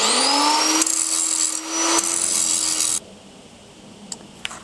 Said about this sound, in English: now I just got to clean up the end a little bit with a grinder